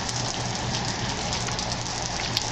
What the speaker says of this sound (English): But I'm sure you can hear the rain.